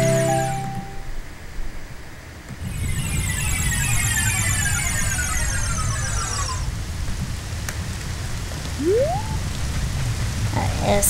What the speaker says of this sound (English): It's still raining out here.